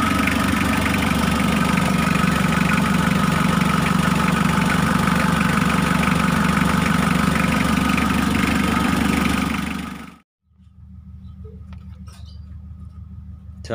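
A Mitsubishi L300 diesel engine runs loud and close just after starting, a steady rattling idle that cuts out abruptly, then resumes more quietly.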